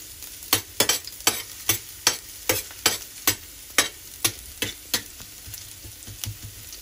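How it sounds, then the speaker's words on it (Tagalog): Garlic cooking in a pan for a carbonara, heard as a steady close sizzle cut by about fifteen sharp, regular scrapes and clacks of a utensil stirring against the pan, with no voices. "So guys, yan, magigisa na tayo ng garlic."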